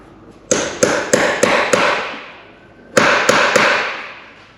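A hammer tapping a bolt on a Mini engine, heard as two close, loud bursts of sharp metallic strikes, one of five hits and one of three, each ringing out between the blows.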